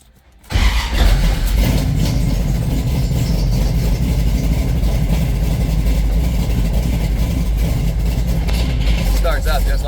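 A Dodge Challenger engine cranks and catches, then settles into a steady, loud, rumbling idle that continues close by without a break.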